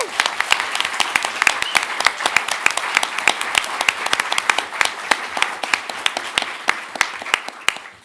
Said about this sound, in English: Please join us in giving her a very special round of applause.